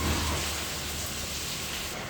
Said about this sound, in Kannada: ಜೋರು ಮಳೆ ಬರತೈತಿ ನೋಡ್ರಿ ಎಷ್ಟು ಜೋರಾಗೈತೆ ಮಳೆ.